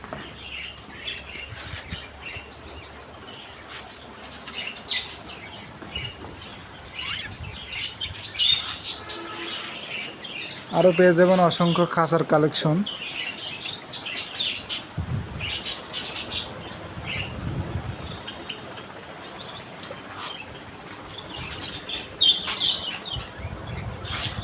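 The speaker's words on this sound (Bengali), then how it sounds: "আরও অনেক সুন্দর সুন্দর কালারফুল বজরিকা পাখি এখানে পেয়ে যাবেন" Budgerigars in a bird shop give scattered chirps, squawks and wing flutters at moderate loudness, with a busier flurry near the middle and someone speaking briefly.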